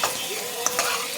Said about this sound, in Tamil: இஞ்சி பூண்டு நல்லா வதங்கணும்